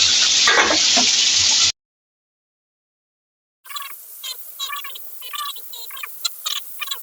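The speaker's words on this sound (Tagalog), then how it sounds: "habang piniprito yung ating mga isda" Fish sizzling and spattering in hot oil in a pan, a dense crackle that stops for a couple of seconds and then returns as lighter, irregular popping.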